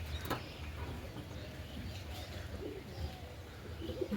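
Pigeons coo softly at a distance, low murmuring calls over a faint outdoor background with a few light chirps.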